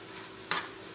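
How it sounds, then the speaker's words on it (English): Fresh spinach and kale sauté in a pan with a steady, soft sizzle and one brief, louder stirring scrape midway. No one speaks. "now our lovely spinach and kale is sauteing down"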